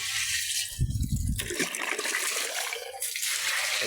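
Water gushes and splashes into a pig pen's drinking container after feeding, pouring loudly and close in bursts with brief pauses between.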